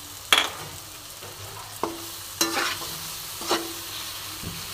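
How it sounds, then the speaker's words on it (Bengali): Fried potatoes are stirred into a frying curry, with several distinct scraping strokes of a spatula in the pan over a quiet, steady sizzle, close by. "দেখো, আমি এর মধ্যে এবার ভাজা আলুটা অ্যাড করে দিলাম।"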